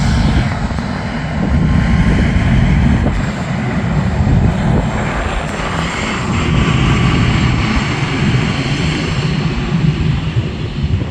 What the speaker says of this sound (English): look how big the A380 looks here